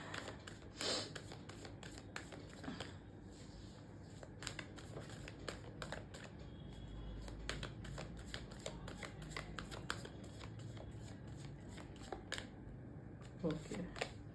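Tarot cards being shuffled close by, with quick papery flicks and taps scattered throughout under soft, low talking.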